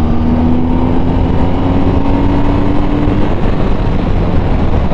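A BMW R1250 GS motorcycle accelerating in dynamic mode, loud and close, with a sustained engine drone whose pitch climbs steadily, then holds under rushing wind noise.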